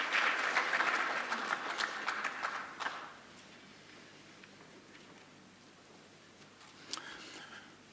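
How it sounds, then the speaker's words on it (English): An audience gives a round of applause for presenters coming up to the front, loud clapping at first that fades after about three seconds into scattered light claps. "So you can just give them a big round of applause as they come up."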